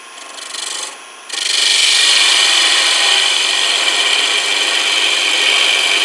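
A skew chisel cuts a wood spindle on a lathe, giving a brief scrape and then a loud, sustained, close-up hiss of shaving wood that runs steadily to the end with no talk.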